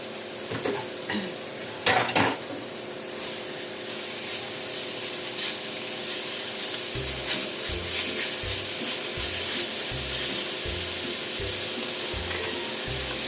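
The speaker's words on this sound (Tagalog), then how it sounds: "nagpapainit po tayo ng kawali para po masangkot siya na natin yung ating giniling" Ground pork or beef giniling sautéing in a hot pan for ginisang sayote, a steady low sizzle throughout with a few clinks of a utensil early on, then repeated rhythmic scraping strokes in the second half.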